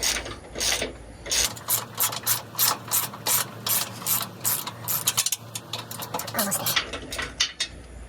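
A rapid metallic ratcheting clatter, a run of close, loud clicks and grinding mechanical knocks, comes from under a Toyota Sequoia or Tundra with a clunking fault, steady for several seconds before easing off.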